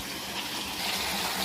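Mountain stream water pours steadily near a Shiva temple on the road to Araku, a continuous close rushing and splashing with no voices.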